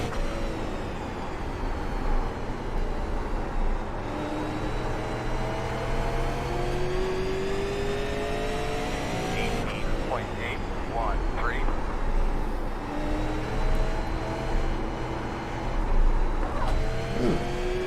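Race car engine at New Smyrna Speedway in a racing video game, a continuous loud engine drone whose pitch rises and falls with shifts and throttle changes, with occasional passing cars and talk over it.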